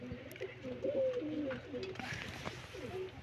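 Blue-eyed pigeons, including a blue-tail pigeon, kept by a breeder in Sialkot, cooing softly in short repeated phrases, faint and close, with quiet background noise and no clear speech.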